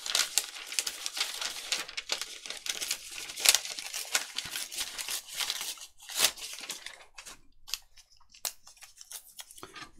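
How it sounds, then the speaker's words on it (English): Book pages are torn out by hand in a series of close, dry ripping and crinkling bursts, irregular and fairly quiet, with short pauses between tears. "the first thing is just to tear some text out randomly"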